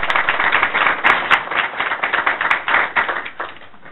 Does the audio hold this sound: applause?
yes